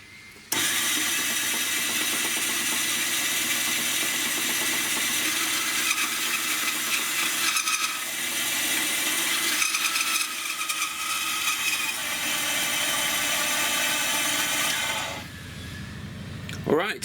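A power saw blade cutting out a guitar body shape, a loud steady high whine running continuously for about fourteen seconds before winding down, close by with no talk.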